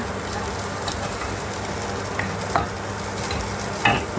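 Curry leaves and other ingredients sauté in hot oil in a pan for biryani, giving a steady, dense sizzle with a few scraping stirs.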